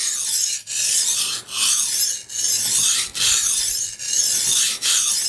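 Kitchen knife blade drawn repeatedly across a whetstone, a steady rasping scrape in about six even strokes with brief pauses between them, close and fairly loud with no talking.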